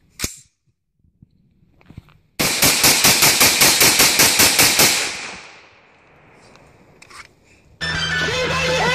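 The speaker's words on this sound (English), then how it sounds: "Real man shoots pink AR-15." A pink AR-15 rifle fires a rapid string of about a dozen loud, evenly spaced shots, close by, after a few quiet seconds; a burst of other loud noise follows the shots at the end.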